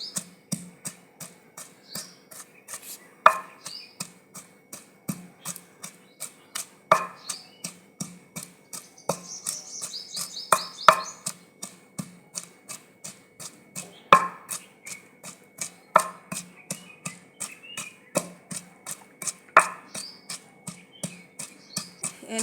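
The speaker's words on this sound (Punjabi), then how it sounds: "ਪਹਿਲਾਂ ਆਪਾਂ ਥੋੜੇ ਥੋੜੇ ਗੰਡੇ ਕੁੱਟ ਲਾਂਗੇ ਗੰਡਾ ਤੇ ਹਰੀ ਮਿਰਚ" Onion and green chilli are pounded by hand for stuffed bitter gourd in a village kitchen, a steady series of close, dull knocking thuds at a regular rhythm, fairly quiet and with no talk.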